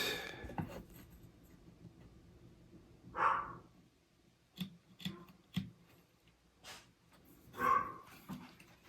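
A dog barks at a mailman a few times, with separated, moderately loud yips spread through an otherwise quiet room.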